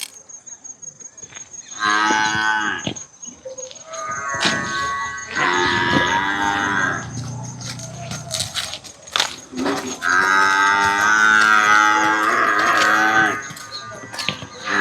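Jafarabadi Murrah buffaloes, including a heavy pregnant animal, give several long, loud moos in succession, some overlapping, with faint insect chirping in the quiet gaps between calls.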